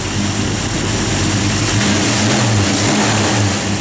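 A 1964 Ford Falcon Sprint pump-gas engine with a mild Comp cam rumbles loud and close, its uneven idle swelling into short throttle blips with a choppy, lumpy lope.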